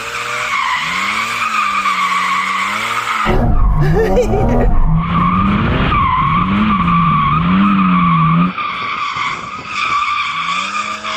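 Tires squeal loudly as a Porsche 718 GT4 RS is clutch-kicked sideways into a drift, the howl wavering over revving engine noise, close and sustained for several seconds.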